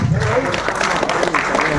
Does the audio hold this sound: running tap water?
no